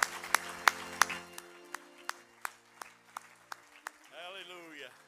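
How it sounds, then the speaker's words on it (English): A church congregation at a Sunday morning service claps in praise, a handful of sharp, separate hand claps spaced out and fading, followed by a brief stretch of voices. "give the Lord one more good hand clap of praise this morning"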